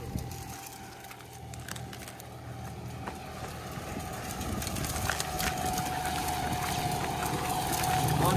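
A vehicle engine labours on a climb with its RPM sagging, a continuous low droning hum under road rumble that grows gradually louder toward the end.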